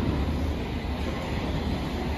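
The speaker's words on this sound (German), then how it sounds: "Mittlerweile sind wir wieder bei der U-Bahn-Station und warten auf unser Zug." Steady rumble of a London Underground train at a subway station, a continuous dense roar with no talk over it.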